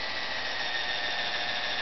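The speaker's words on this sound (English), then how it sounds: "So you drill in a hole" A drill fitted with a 5/16 bit bores a tap hole into a maple tree, giving a steady, close, high-pitched whine that holds unbroken and runs alone throughout.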